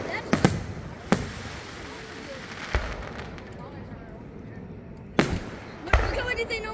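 Backyard fireworks in Virginia burst loudly several times, sharp booms spread irregularly across a few seconds, with crackling sparkle after the later blasts and people talking faintly between them.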